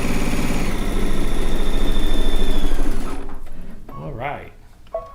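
A sewing machine stitches a rag quilt in a rapid, steady whir of needle strokes for about three seconds, then stops, leaving quiet room sound and a brief voice.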